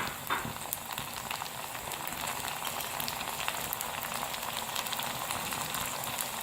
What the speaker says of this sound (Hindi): अब हम इसमें टमाटर शामिल करेंगे।